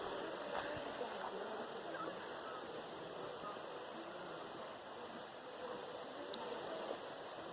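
A river flows through rainforest in a steady, broadband rush of running water, with a few brief splashes from people wading in it nearby.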